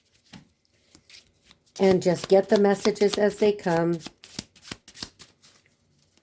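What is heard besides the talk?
shuffling oracle cards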